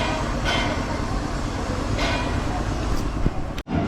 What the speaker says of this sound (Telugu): ట్రైన్ ఎక్కేసి నీట్గా స్టార్ట్ అయిపోయి వెళ్ళిపోయింది.